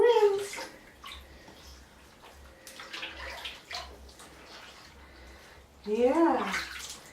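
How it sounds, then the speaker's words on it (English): Bath water is poured and splashed over a three-week-old baby boy's hair in a tub, with soft sloshing and a louder rinse at the end, heard beneath an adult's gentle talk to the infant. "Time to rinse the hair"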